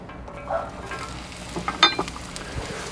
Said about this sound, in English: Put a little oil on here to get that going. Throw on the onion.